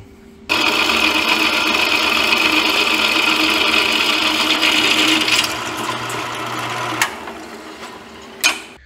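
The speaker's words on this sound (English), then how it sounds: "Then we gotta mill this out." Milling machine cutting out a metal part, a loud, steady, close mechanical whir and grinding that runs continuously for several seconds before easing off, with a couple of sharp knocks near the end.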